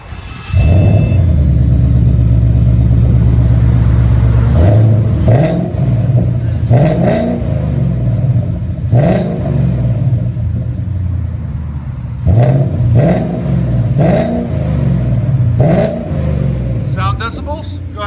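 A 2020 Ford Mustang GT 5.0 Coyote V8 with Borla Pro XS dual exhaust idles with a heavy rumble, then barks through a series of sharp revs that swell and drop back, loud and close.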